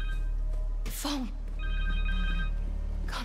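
A cell phone ringing in the Spider-Man 2 video game on PS5, a repeating electronic ring tone heard over steady game background ambience and music, with people talking.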